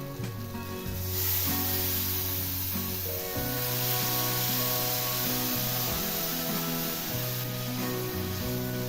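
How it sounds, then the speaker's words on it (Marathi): Water is poured into a pot of hot roasted masala with the oil separated, for egg curry. It gives a loud, continuous sizzle and hiss that swells and holds for several seconds, with a faint background tune running underneath. "मसाला वाटलेल्या भांड्यातच पाणी घालून घ्यायचं आहे"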